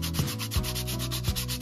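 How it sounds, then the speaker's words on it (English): Sandpaper scuffs the surface of a boat's backing plate in quick repeated rubbing strokes, close and steady, with no voices. "Take a little sandpaper."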